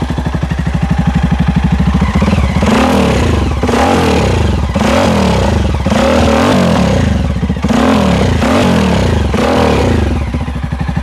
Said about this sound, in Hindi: ड्यूअल साइलेंसर है इसके अंदर और दोनों साइलेंसर आपके वर्किंग है